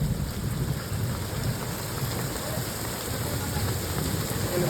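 Dense, steady downpour of heavy rain roars evenly throughout, with a low continuous thunder rumble blended underneath; no voices.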